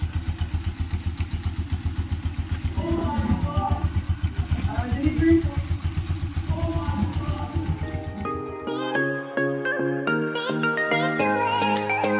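A Honda TMX 125 motorcycle engine, freshly tuned, idles close by with an even, low, quick chug for about eight seconds before giving way to bright chiming tones.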